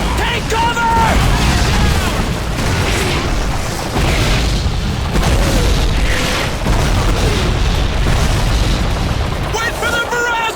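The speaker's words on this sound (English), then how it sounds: "Artillery barrage! Take cover!" Artillery barrage in the World War II shooter Call of Duty 2, loud booming explosions landing repeatedly and close, mixed with gunfire and shouting soldiers throughout.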